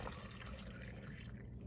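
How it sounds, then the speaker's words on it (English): Water pouring into a blender filled with mixed fruits and vegetables for a smoothie, a soft, faint, steady trickling splash heard alone for a brief moment. "I'm just gonna add enough water,"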